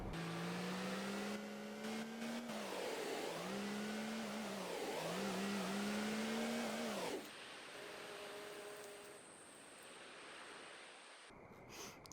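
A truck driving at night in Farming Simulator 19, its engine droning and rising and falling in pitch with repeated revs, then dropping to a quieter steady hum; no voices.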